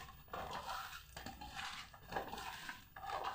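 Pieces of mango pickle being mixed with oil in a bowl make soft, wet crunching and scraping sounds in repeated strokes, close and fairly quiet, with no talking.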